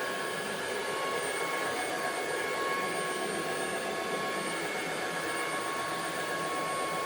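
An uwant D100 wet dry vacuum cleaner runs in dry mode, giving a steady, loud whining motor roar with a high tonal hum that holds unchanged throughout, with no talking.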